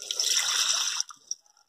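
A glass of water poured into a bowl, a close splashing rush for about a second that stops abruptly, followed by a few faint drips and clinks.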